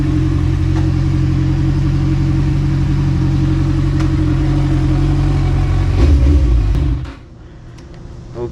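A Kawasaki motorcycle engine runs loud and steady at close range while being parked, then cuts off abruptly near the end, leaving a quieter background.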